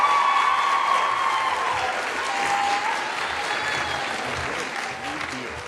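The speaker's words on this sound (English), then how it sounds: "Let's give him a round of applause." Sustained applause from a crowd at a School Choice Week student rally, a dense steady roar of clapping with a few cheers mixed in, tapering slightly toward the end.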